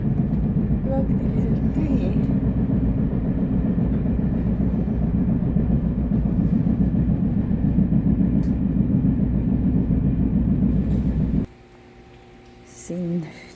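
A slow local train runs along Taiwan's east coast, its carriage giving a loud, continuous rumble and rattle that suddenly drops to a quiet interior hum, followed by a short rising tonal sound near the end.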